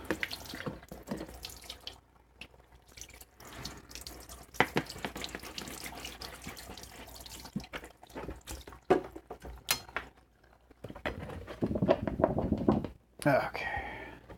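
Water runs from a kitchen sink tap while a cook rinses something clean, a steady splashing stream with knocks and clatter, some of it under talk. It swells into a fuller rush near the end.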